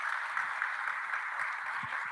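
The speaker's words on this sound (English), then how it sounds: "Un grand applaudissement pour monsieur pour l'encourager quand même." Audience applause at a live conference presentation, a steady, moderately loud crowd clapping throughout with no voices over it.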